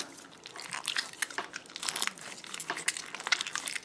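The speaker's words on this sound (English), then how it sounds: "those little beads that make it super crunchy, almost like a bubble wrap slime" Crunchy slime packed with tiny glass beads is squeezed and kneaded close up. It gives dense bursts of crackling, popping crunches in an irregular rhythm, heard alone without talk.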